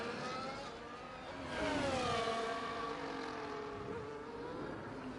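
A Formula 1 car from an F1 racing game screams down the front straight into a hard braking zone on a timed lap, its steady high engine whine swelling and shifting pitch, loud and continuous with no talk.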